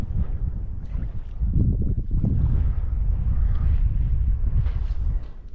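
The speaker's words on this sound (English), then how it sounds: "Wind's died off a bit, which is good." Wind gusts across the water during a morning of mud crab hunting and fishing, a loud, steady, rumbling buffet against the microphone that runs throughout.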